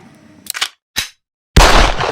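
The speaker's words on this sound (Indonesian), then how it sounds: "berbunyi suara tembakan terakhir" Gunshot sound effects in a school history play: two sharp cracks about half a second apart, then a sudden loud burst that keeps sounding to the end.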